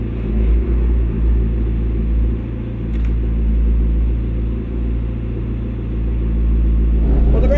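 A McLaren MP4-12C sports car drives along with a deep, steady engine rumble heard from inside the cabin, the low drone holding constant with a slight swell near the end.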